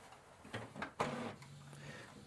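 A Canon PIXMA TR7120 printer runs after its lid is closed, giving a few short mechanical whirs and clicks followed by a steady low motor hum, quiet and close by.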